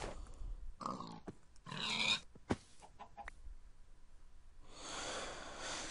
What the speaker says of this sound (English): Hi, pigs.